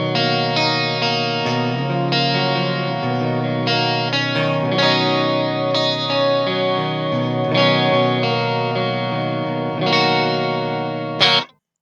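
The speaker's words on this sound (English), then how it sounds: "So that does a really nice job at emulating a 12-string guitar." An electric guitar runs through a Mosaic 12-string emulator pedal into the clean channel of a Tiny Terror amp, strumming shimmering chords for about eleven seconds, loud and steady, then cutting off abruptly.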